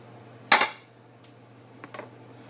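A clatter of food and utensil dropping into a 9 by 13 casserole dish for French toast casserole, one sharp loud clink followed by a couple of faint light taps, with quiet background hum and no talking.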